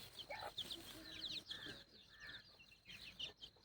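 Free-range village desi hens with black chicks cluck and peep in short, scattered bursts, fairly faint and close by, with brief pauses between calls.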